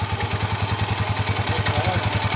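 A rebuilt Suzuki SR125 motorcycle engine, with a new timing gear, crankshaft, bearing and connecting rod, runs at idle close up. It gives a loud, steady, rapid pulsing thump with mechanical clatter on top and no talking.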